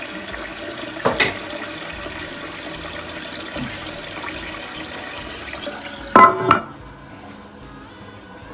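A toilet tank refills after a repair, with water hissing and trickling steadily at close range, broken by a few clunks before the flow cuts off to near quiet.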